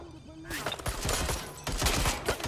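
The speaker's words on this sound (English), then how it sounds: "Shots fired!" Rapid bursts of gunfire in the video game Watch Dogs Legion crack out loud and close in quick succession over about two seconds, mixed with game noise and a voice.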